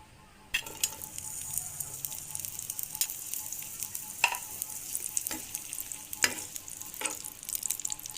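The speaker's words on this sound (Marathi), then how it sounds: "यामध्ये एक बारीक चिरलेला कांदा आणि टोमॅटो परतून घेऊया" Steady soft sizzling of finely chopped onion and tomato sautéing in a pan, with occasional scraping stir strokes cutting through; no voices.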